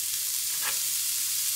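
Onions and mushrooms frying in a pan for an omelette give a steady, dense sizzle up close, with one brief stir or scrape partway through.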